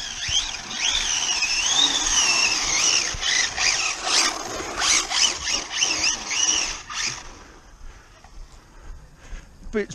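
An Arrma Limitless RC car spins its wheels at full throttle, a loud, high whining squeal that wavers up and down in pitch over several seconds, then fades into a few shorter bursts and quieter rumbles.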